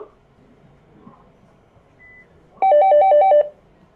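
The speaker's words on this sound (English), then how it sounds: "Go ahead, test your buzzer." A quiz game buzzer sounds once when tested, a loud steady electronic tone with a pulsing warble lasting under a second, standing alone after a quiet room.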